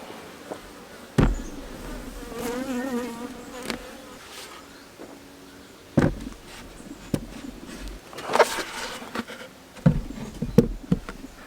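Saskatraz honeybees buzzing around an open hive, a continuous close, humming swarm sound with scattered sharp knocks and clicks from handling the hive frames.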